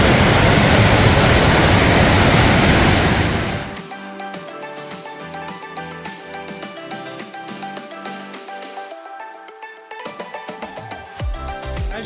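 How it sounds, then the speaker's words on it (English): A waterfall on the Pipiwai Trail in Haleakala National Park, Hawaii, roars loudly and steadily at close range for a few seconds before the rushing noise drops away to quieter, scattered forest sounds. "So that's the waterfall."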